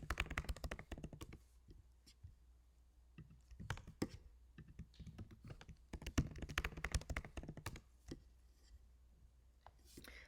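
Fingers type an email and password on a computer keyboard, quick irregular clicking and tapping of keys in bursts with short pauses, close but quiet, with no talking.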